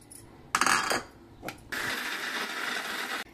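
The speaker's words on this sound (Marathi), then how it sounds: "म्हणून जास्त पण मिक्सर फिरवायचं आणि आपण बघायचं वाटताना" A kitchen mixer grinding peanuts with jaggery, with a short rattling whir, a brief pause and another blip, then a steady, loud, high grinding hum that runs for over a second before stopping abruptly.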